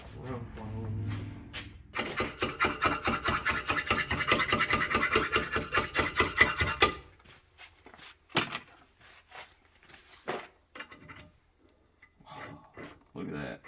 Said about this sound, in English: And I'll get a file. Rub file in there.